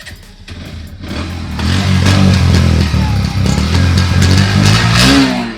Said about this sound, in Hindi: तो इसको मैं स्टार्ट करूँगा